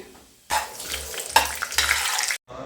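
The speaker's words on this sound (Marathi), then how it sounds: "आता मस्त जिरं राई असं टाकून घेते" Cumin and mustard seeds hit hot oil for khichdi with a sudden loud sizzle that crackles for a couple of seconds, then cuts off abruptly.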